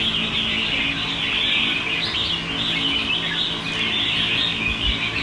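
A competition songbird sings continuously, close and fairly loud, in a rapid stream of sharp chirps and trills with no talking.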